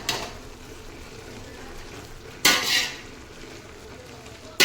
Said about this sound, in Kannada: ಈ ಟೈಮಲ್ಲಿ ನಾನು ಒಂದು ಅರ್ಧ ಟೇಬಲ್ ಸ್ಪೂನಷ್ಟು ಅರಿಶಿನ ಹಾಕ್ಬಿಟ್ಟು ಇನ್ನೊಂದು ಸಲ ಮಿಕ್ಸ್ ಮಾಡ್ಕೊಳ್ತೀನಿ